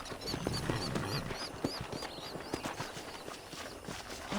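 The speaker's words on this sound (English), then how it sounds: "I picked out a fine horse for you." Horse hooves clopping at a steady walking pace in the video game Red Dead Redemption, with faint birdsong chirping high above the hoofbeats.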